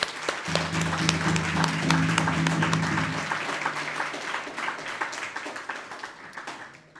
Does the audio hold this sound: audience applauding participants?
yes